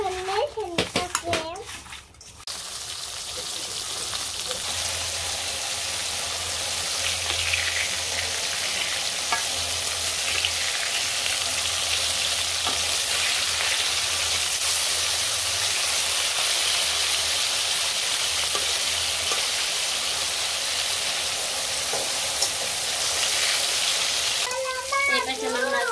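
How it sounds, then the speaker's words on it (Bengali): Fish frying in hot oil, a loud steady sizzle and hiss that runs unbroken for most of the stretch, with brief voices and clatter near the start and end. "এই পাশে আমার মাছ ভাজা হয়ে গেছে"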